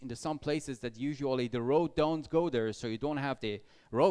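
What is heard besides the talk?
No distinct noise like a dog, phone or traffic.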